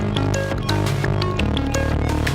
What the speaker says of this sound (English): you can drop it into a Eurorack case and make sounds like this.